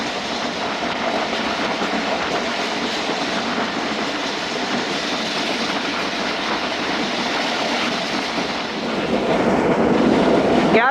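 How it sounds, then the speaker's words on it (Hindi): The Allama Iqbal Express passenger train runs at about 105-110 km/h just past Habibabad station, a loud continuous rumble of wheels and carriages with rattling clatter that swells slightly toward the end. "ट्रेन अभी हबीबाबाद रेलवे स्टेशन से निकली है, और स्पीड ट्रेन की शो हो रही है बिटवीन 105 से 110 किलोमीटर"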